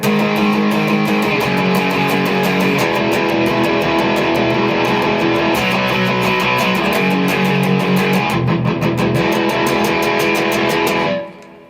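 Distorted electric guitar plays the outro of a song, a loud, steady power-chord progression starting on G5 that rings out and cuts off at the end, with no voices.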